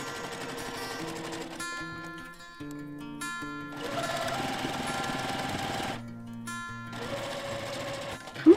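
A sewing machine runs back and forth, stitching a back stitch on a fabric zipper pouch, with several bursts of steady mechanical whirring separated by short pauses and a small click at the end.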